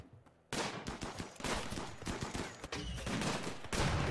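RimWorld colonists open fire together after a quiet start, and rapid overlapping gunshots and bursts of automatic fire crackle on loud and without a break for the rest of the moment.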